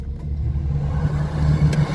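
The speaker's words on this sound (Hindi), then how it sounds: "तो मैंने गाड़ी को स्टार्ट कर लिया" A 2018 Suzuki Mehran VX car engine idles steadily just after being started, a low continuous rumble with a faint higher whine, heard close and alone without speech.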